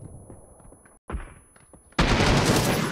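Gunfire in a shooting video game, with scattered shots early on, a sharp burst after a brief gap, then a loud sustained volley filling the final second.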